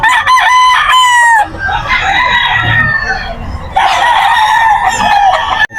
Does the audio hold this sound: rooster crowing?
yes